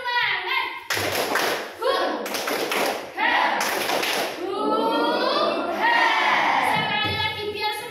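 A classroom of children doing the 'tepuk semangat' spirit clapping routine, several bursts of loud group claps in rhythm alternating with children chanting together up close.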